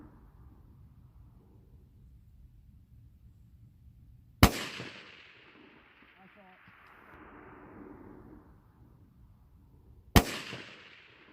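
Two sharp, loud rifle shots from an 18-inch 6.5 Grendel rifle ring out several seconds apart outdoors, each a sudden crack trailing into a rolling echo, with quiet talk in between.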